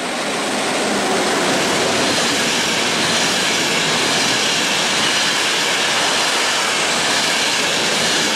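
An S-Bahn S1 train bound for Bludenz pulls out of the station at Lindau with a loud, sustained rolling rumble and rail noise that holds steady and close for the whole stretch.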